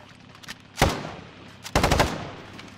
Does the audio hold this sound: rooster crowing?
no